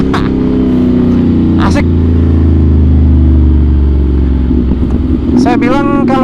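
A Ducati Monster 796 with an SC aftermarket exhaust rumbles loud and deep at close range, its engine note rising into revs. Someone talks over the noise.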